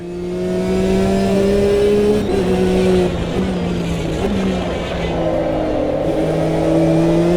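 Race cars in an Automobilista 2 race, including a Corvette, engines droning steadily at high revs with pitch shifts as gears change and other cars close by, loud and continuous without talk.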